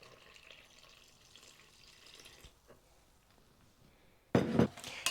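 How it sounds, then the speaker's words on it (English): Lukewarm water is poured into a well of flour and yeast in a bowl, a short close splashing burst near the end after a quiet stretch with faint background sound. "add 350 ml of lukewarm water"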